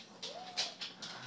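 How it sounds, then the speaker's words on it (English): A faint, high golden puppy whimper rising and wavering, mixed with soft breathy sniffs at a steady pace, close but quiet. "What do you think of that puppy?"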